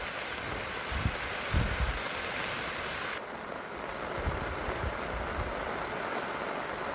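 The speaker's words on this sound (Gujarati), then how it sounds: "હજી વરસાદ કન્ટિન્યુ ચાલુ જ છે" Steady heavy rain hisses continuously during camping, a dense wash of falling water at moderate loudness, with a few low thumps partway through and no voices.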